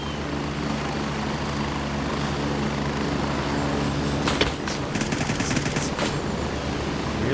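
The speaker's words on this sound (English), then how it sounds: "Enemy heli, enemy heli." An enemy helicopter in a multiplayer shooter video game, its rotor thumping steadily and loudly throughout, with bursts of gunfire crackling in around the middle.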